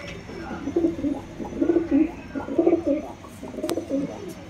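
Punjabi pigeons cooing close by, soft low throaty calls repeating in several rolling phrases over a quiet background.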